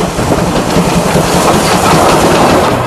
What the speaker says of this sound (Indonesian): Ternyata kereta api Thomas.